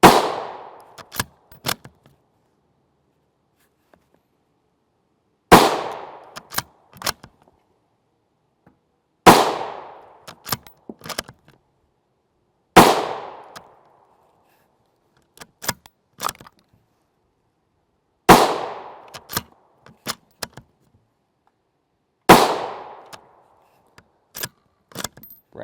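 Rifle firing 5.56x45mm 77gr OTM Sellier and Bellot rounds outdoors: six loud, sharp reports spaced a few seconds apart, each followed by a decaying echo and a few light metallic clicks from the action.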